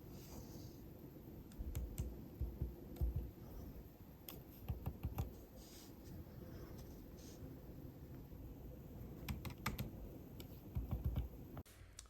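Typing on the scissor-mechanism keyboard of a 2021 MacBook Pro: quiet, soft key clicks in irregular bursts and short runs over a low background hum, close by and without speech.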